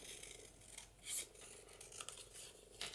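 Scissors snip through paper while trimming a junk journal page, a quiet dry cut with a sharper swish near the middle and another near the end, close and faint with no voices.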